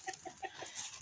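A chicken being hand-fed at a farm coop gives a quick run of soft, close clucks within about one second.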